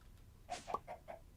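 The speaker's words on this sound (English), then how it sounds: "And I put chickens in, and they've already filled this thing up with eggs." Chickens cluck in the Minecraft video game, four short bird-like calls spaced in quick succession, moderately close and fairly faint against a quiet background with no talk.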